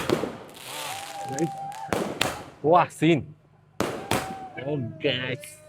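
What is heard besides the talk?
firecrackers exploding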